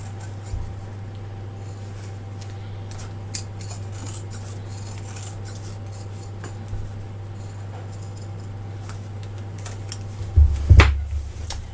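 Scissors trim excess cork and fabric on an in-the-hoop zippered pouch, with a few faint scattered snips over a steady low machine hum and a louder rustle and cut near the end.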